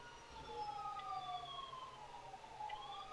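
A faint wailing video-game ambulance siren sweeps up and down in the distance, its tone rising and falling repeatedly over a low background hum.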